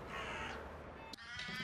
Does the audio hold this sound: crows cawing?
yes